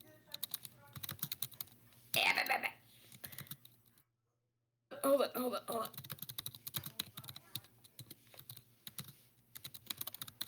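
Rapid clattering keystrokes on a computer keyboard come in bursts close by, broken by a brief silence, with a voice speaking briefly between them.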